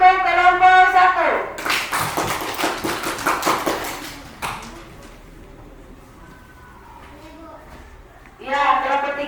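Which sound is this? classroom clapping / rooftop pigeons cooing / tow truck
classroom clapping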